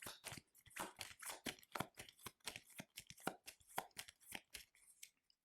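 Marvel Champions cards being shuffled by hand: a quick, steady run of soft papery flicks and riffles, faint and close, ending in a brief pause.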